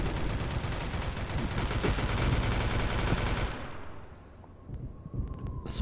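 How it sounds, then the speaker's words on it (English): Dense, rapid automatic gunfire rattles continuously for several seconds in a Roblox Oof Brigade battle, then cuts off, leaving a few scattered distant shots and faint clicks. "Suppressing fire!"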